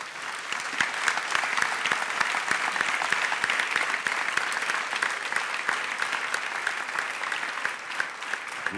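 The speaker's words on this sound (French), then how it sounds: "vous venez de le faire en applaudissant Sébastien" A photography-show audience gives Sebastião Salgado a sustained round of applause, many hands clapping in a dense, even wash that holds steady for the whole stretch.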